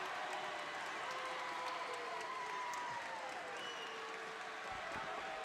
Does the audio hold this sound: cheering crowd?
yes